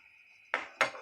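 Kitchen utensils and cutlery being put away after cooking a wild apple cream, two quick close metallic clinks following a faint steady tone.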